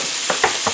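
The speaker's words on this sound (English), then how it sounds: "I'm going to start by browning some ground beef" Ground beef, 80-20, browns in a pan, giving a soft steady sizzle broken by a few short scraping stirs, close and fairly loud.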